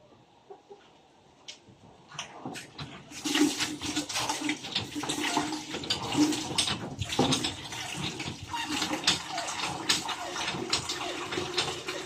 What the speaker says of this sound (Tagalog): magbobomba muna tayo ng tubig para po ilagay natin dun sa loob para may magamit po para sa kusina